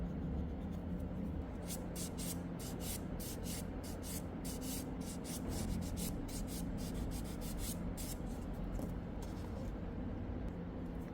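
An electric nail drill grinds off gel polish from a fingernail, giving a steady close buzzing whine with bursts of scratchy high grinding as the bit passes over the nail surface, running continuously throughout.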